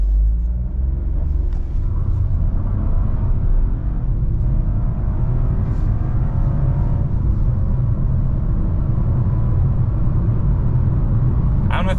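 A 2024 Chevy Trax LT's turbo engine pulling through a full 0-60 launch after a front-wheel-drive chirp of wheelspin, a loud continuous rising rumble and drone from inside the car that climbs through gears over twelve seconds.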